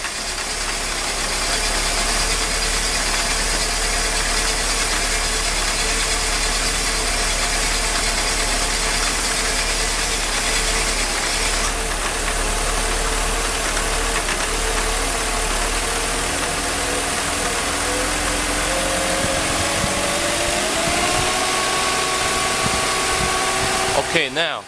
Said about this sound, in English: the car started to run at steady speed more or less, but misfires badly